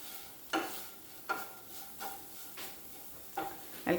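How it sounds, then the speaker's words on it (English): Bhindi masala stirred in a frying pan: a soft sizzle runs throughout, broken by about six scraping stir strokes at a steady, unhurried rhythm, close and moderately quiet with no talking. "I'll keep on stirring for 2-3 minutes."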